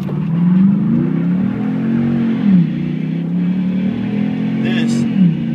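A 2012 Dodge Ram Hemi and a 2007 Chevrolet Silverado Allison Duramax diesel truck accelerating: loud, close engine roars that climb in pitch, fall back through shifts and climb again, with voices briefly under the noise.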